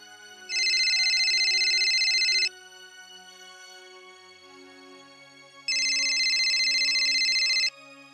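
A telephone rings on an outgoing call, in two loud electronic bursts about two seconds long with a few seconds of quiet between them. Faint background sound continues in the gaps.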